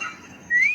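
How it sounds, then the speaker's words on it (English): A person gives a single short, clear rising whistle, close and fairly loud, after a brief faint murmur. "Can you whistle?"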